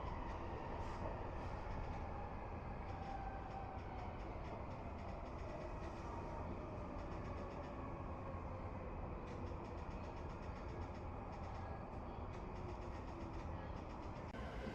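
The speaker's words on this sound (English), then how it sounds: "This is the Yamanote Line train bound for Shinjuku and Tsutoshi subway line." Interior of a Yamanote Line train in Tokyo on a rainy day, with a steady, continuous rumble of wheels and car noise and light clicking, heard from inside the carriage for the whole stretch, with no one talking.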